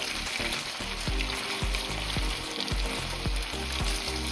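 Korean beef patties (tteokgalbi) frying and caramelizing in a pan, a continuous dense sizzle with regular low thumps recurring about every half second, close and steady.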